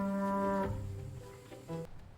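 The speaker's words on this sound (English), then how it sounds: "The cow moos in the field." A cow moos once in a field, a drawn-out low bellow that fades off, followed by a shorter second low call near the end.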